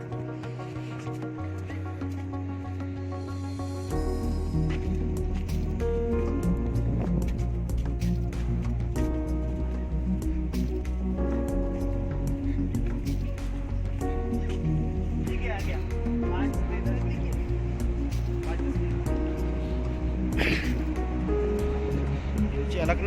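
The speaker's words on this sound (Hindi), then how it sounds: "अलकनंदा नदी बह रही है," The Alaknanda river roars loudly and steadily near Bhim Pul in Mana village, a dense continuous rush of mountain water with no pauses.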